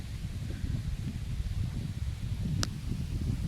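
Heavy wind buffets the microphone on a grassy mango and coconut farm with a constant low roar and rumble, steady throughout, with one brief click partway through.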